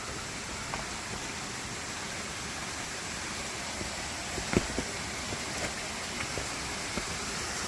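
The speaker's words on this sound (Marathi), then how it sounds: "कसं पाणी वाहतंय पूर्ण" A steady, close rush of stream water flowing over rocks on a mountain trek through the Sahyadri hills near Kothaligad, an even hiss throughout with a few faint knocks and no talking.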